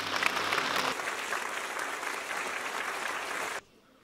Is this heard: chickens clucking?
no